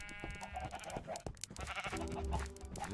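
Sheep bleating in the Minecraft video game, several game-style bleats scattered over about three seconds amid background game sounds, fairly close and clear.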